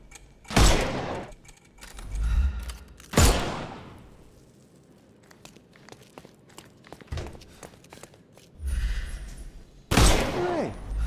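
Sherlock Holmes Chapter One game gunfire: a few loud separate shots spaced seconds apart, with footsteps and quieter action noises between them.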